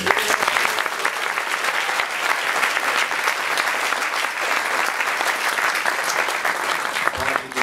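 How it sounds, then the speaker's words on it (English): A seated audience at a talk on the Bhagavad Gita breaks into steady, dense applause that carries on evenly throughout, with no voices over it. "a round of applause for him"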